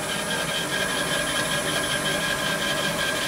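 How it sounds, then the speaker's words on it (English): Drill press driven by a VFD at maximum speed, 100 hertz and about 770 RPM, producing a continuous steady whirring drone with a faint high whine, close and unbroken. "I'll just turn it up to maximum right now to 100 hertz to show you what the maximum speed would be I get out of this thing"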